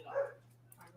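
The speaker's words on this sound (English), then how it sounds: "And it's dogs barking in the background." A dog barks once fairly close in a quiet room, a short low woof followed by a fainter second yip, with a steady low hum underneath.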